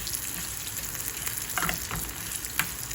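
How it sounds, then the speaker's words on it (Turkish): Bulgur toasts in a hot pan with oil, giving a continuous, fairly quiet sizzle and crackle throughout, with a couple of brief stirring scrapes and no talking. "bulgurlar hemen kavrulmaya başladı"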